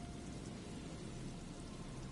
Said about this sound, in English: Rain drips from the mesh of the trap.